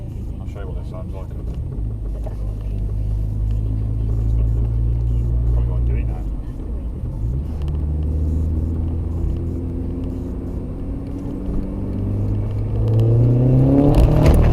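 A SEAT Cupra R engine idles and rises in rough, rumbling revs with its sensor disconnected, pitch climbing steadily toward the end while someone speaks briefly over it.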